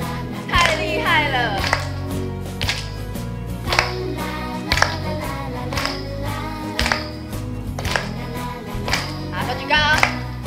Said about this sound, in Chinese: 好，给自己拍拍手。